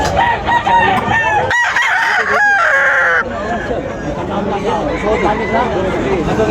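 A rooster crows loudly nearby amid clucking fowl and the busy chatter of a crowd at a chicken market in Tabunok, with people talking throughout.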